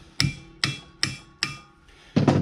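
A hammer striking metal while narrowing a Mustang part, five sharp close blows spaced about every half second with ringing decay, the last a rapid double hit, no talking.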